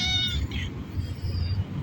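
A cat in Phnom Penh, Cambodia, gives a couple of close, clear meows in quick succession, loud over faint outdoor street background with no talking.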